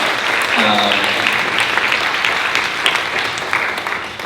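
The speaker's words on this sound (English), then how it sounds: "It's a very well-deserved round of applause." A seated audience at a panel discussion in a temple community space gives a sustained round of applause, dense and fairly loud, with a brief voice heard early on over the clapping.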